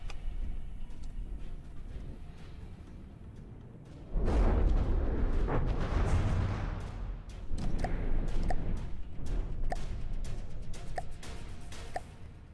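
Artillery shells explode in a naval battle in the game From the Depths, with a sudden loud boom around four seconds followed by a rumbling, crackling wash and a second surge of blasts, with small ticks scattered throughout.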